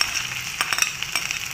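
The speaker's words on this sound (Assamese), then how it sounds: "কাটি ৰখা পিঁয়াজখিনি দি দিলোঁ" Chopped onions hit hot mustard oil in a kadai with cumin and bay leaf, giving a loud, close, steady sizzle broken by a few sharp stirring clicks and scrapes.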